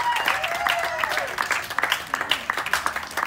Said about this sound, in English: Give a round of applause for the great Flint Arts Council!